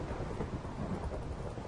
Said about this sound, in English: Did I just hear thunder?